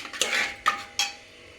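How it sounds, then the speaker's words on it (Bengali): A metal spatula scrapes and scoops soft cooked mung dal in a pressure-cooker pot, giving three distinct close scraping clinks against the metal, then quiet. "ডালটাকে খুন্তি দিয়ে নিয়ে নিচ্ছে।"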